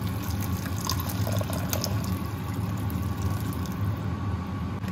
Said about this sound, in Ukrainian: Вливаємо 2 стакани води.